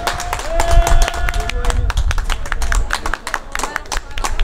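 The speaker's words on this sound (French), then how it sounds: "Un grand applaudissement, s'il vous plaît, cher Chiadmi, sorry." At a sports cup medal ceremony, an audience applauds with scattered, uneven clapping while a voice speaks over it, with low rumbling crowd noise beneath.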